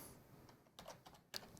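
A user password typed on a computer keyboard: a few quiet key clicks in short bursts, faint and close, with no talk.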